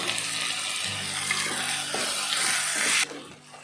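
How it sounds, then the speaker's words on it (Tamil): Loud sizzling and crackling in a frying pan as tomatoes go in for a sauce idli dish, a dense hiss close up that holds steady and then drops off sharply near the end. "கடைசியாக நம்ம தக்காளி போட்டுக்கலாம்."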